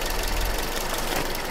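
A Toyota Corolla GLI engine running rough with a misfire, a steady low idle rumble with uneven knocking pulses throughout, close and fairly loud with no voices.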